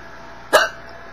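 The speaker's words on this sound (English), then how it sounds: "Like epic hiccups." A single sharp hiccup close up, one brief burst standing out against a quiet background.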